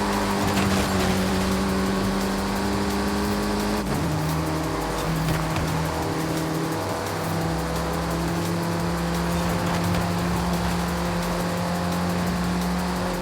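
Porsche race cars in a video game roar continuously with steady, droning engine tones that shift pitch as gears change, a sharp impact from a collision near the four-second mark, loud and sustained throughout with no speech.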